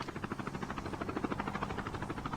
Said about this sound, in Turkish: Başka bir helikopter geldi kanki saklan.